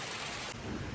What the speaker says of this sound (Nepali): पानी पर्न लागेको छ साथीहरू।